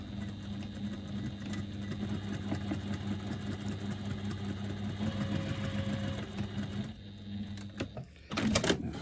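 A sewing machine stitching strips of fabric together, running in a steady, fast mechanical whir and rattle at close range, quiet and continuous before stopping near the end with a brief handling noise.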